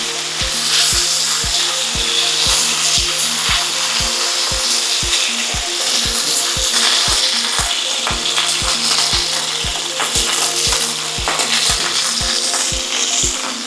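Beef pieces for stroganoff brown in a frying pan with a loud, steady sizzle close up, along with a regular ticking pulse underneath throughout.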